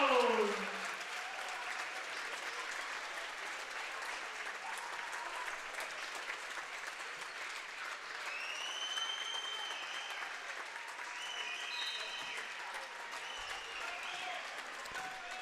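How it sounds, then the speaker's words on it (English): Crowd applause in a gym at a North Dakota girls high school basketball game, steady sustained clapping from the stands, with faint sneaker squeaks and whistle-like tones over it. "She will get a nice round of applause."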